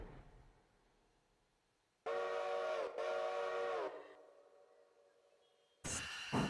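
A locomotive whistle in the railroad game Railroader sounds as two loud, sustained blasts of about a second each, then a longer fading tone, and another sharp blast near the end over quiet rail ambience.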